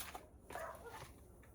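A dog barks and whimpers indoors in a short, fairly faint burst, agitated and close by, with no clear talking over it.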